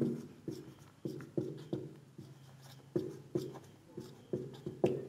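A pen writes on paper during a class 10 Bengali maths lesson, giving a quiet, close series of short scratching strokes in an uneven rhythm, with no speech over them.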